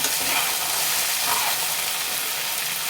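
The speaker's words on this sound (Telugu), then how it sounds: "ఇలానే ఒక త్రీ ఫోర్ టైమ్స్ అయితే మంచిగా ఆయిల్లో వేయించుకుంటూ కలుపుకోవాలి" Okra curry fries in hot oil in a dhaba-style home kitchen, giving a steady, close sizzle with soft stirring scrapes and no talk.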